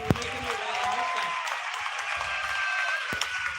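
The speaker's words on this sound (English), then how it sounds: "how about we give them one final round of applause" Crowd applause at a county fair championship rodeo, a moderate, fairly distant patter of clapping mixed with background music and a couple of sharp knocks.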